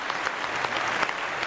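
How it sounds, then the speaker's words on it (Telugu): Applause for Ramya on a televised Telugu dance show stage: a dense, even burst of clapping from the audience, continuous and fairly close, with no talk over it. "Please clap for Ramya."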